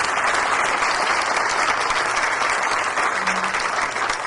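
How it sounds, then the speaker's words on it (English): A banquet crowd at a chamber of commerce awards dinner applauds in a dense, even roar of clapping that holds steady throughout. "So if we could just give them a round of applause"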